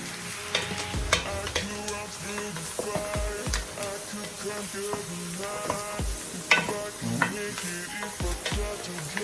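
A roux for chicken and sausage gumbo is stirred steadily in a pot, with a soft sizzle and repeated scraping strokes against a backdrop of tonal music.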